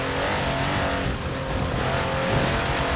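A 6x6 car able to wade through a metre of water drives past at speed, a steady loud engine roar with tire noise throughout and no voices.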